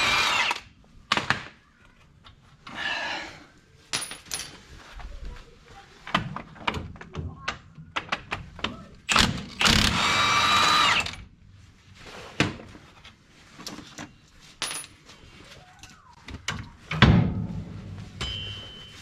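A power tool, likely an impact driver or drill, works the wheel bearing bolts on a third-generation Dodge truck in bursts of whirring and knocking, with clanks of tools and parts between them.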